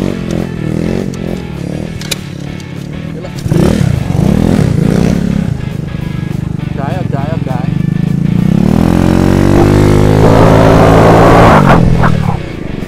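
A motorcycle engine idles and revs unevenly, sputtering and stalling at times, with people talking over it.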